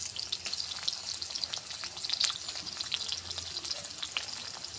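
Chopped onions fry in oil with bay leaf, cinnamon and a green cardamom pod, giving a steady, moderately quiet crackling sizzle with frequent sharp pops throughout and no talking.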